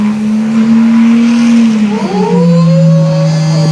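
A Cummins diesel pickup truck engine roars loudly and steadily under heavy load at a truck pull in Hampton, Georgia, its pitch shifting as it strains, with crowd noise faint in the background.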